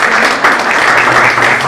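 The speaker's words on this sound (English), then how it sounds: "another round of applause for Mr." Audience applause at a public discussion forum, a steady, loud wash of clapping that continues throughout without pause.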